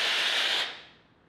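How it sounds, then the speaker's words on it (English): A steam iron pressing felt onto a printing-board panel lets out one strong, close hiss of steam that holds steady, then fades away over about half a second. "And then just give it a good shot of steam"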